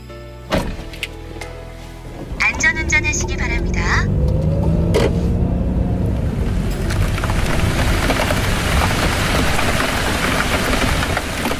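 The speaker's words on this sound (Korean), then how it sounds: "조용한 차 안에서 들리는 빗소리" Rain patters steadily on a car heard from the quiet cabin inside, a dense, even hiss following a few knocks and a brief voice-like sound at the start.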